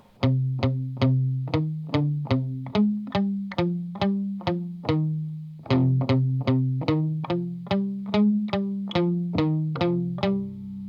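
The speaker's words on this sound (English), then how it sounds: "So the whole riff together sounds like this." An electric guitar plays a repeating picked riff with a driving even rhythm, notes shifting in pitch, processed with distortion and chorus-like effects.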